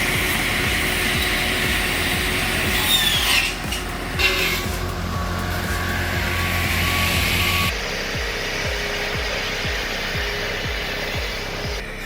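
Chainsaw mill cutting through a massive oak log, a loud sustained engine roar with a rough grinding cut, a brief dip partway, then a lower rhythmic pulsing chug toward the end.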